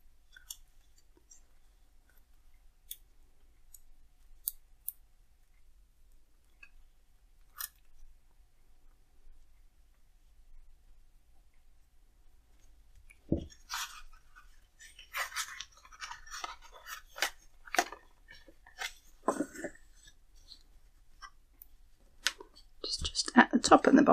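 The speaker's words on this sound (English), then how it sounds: "I'm just going to fasten it in with a couple of pieces of tape" Tape is torn and pressed down to fasten an embroidered slow-stitched card, giving quiet scattered clicks and crisp tearing crackles after a near-silent stretch, with soft speech.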